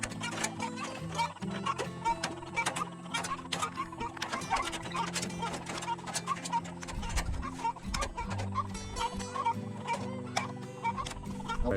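Free-ranging chickens cluck and chatter steadily near the microphone, with scattered clicks and ticks mixed in.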